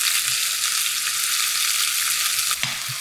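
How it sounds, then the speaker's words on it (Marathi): Sliced onion sautéing with fenugreek seeds, dried red chillies and curry leaves in hot oil for Udupi-style sambar, a loud continuous hissing sizzle with a brief stirring knock near the end. "उभा चिरलेला कांदा कांदा मिसळून घ्यायचा"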